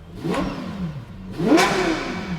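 A supercar engine revs twice in quick succession, each sharp rise and fall in pitch, close and loud with no talk.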